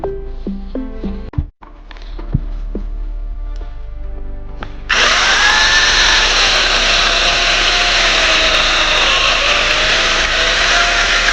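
An electric chainsaw starts up partway through and runs loud and steady trimming acerola cherry branches, its high whine shifting slightly as it cuts, after scattered clunks and handling noises.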